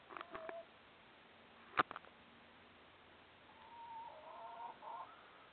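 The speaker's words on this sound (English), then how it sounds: "You can hear the chickens on the other side of the corn." Distant chickens cluck softly outdoors beyond a garden corn patch, with a brief sharper sound partway through and a few low murmuring clucks near the end.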